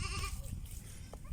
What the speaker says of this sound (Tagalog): papakain po tayo ngayon ng mga kambing.